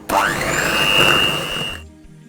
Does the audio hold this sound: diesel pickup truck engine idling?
no